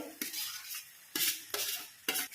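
Fried prawns stirred into masala in a metal pan, with sharp scraping spoon strokes against the pan over a soft background sizzle, several stirs in irregular rhythm, close and clear.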